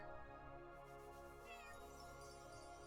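A cat in the video game Chained Echoes meows faintly over steady game music, a short tonal call rising and falling midway through.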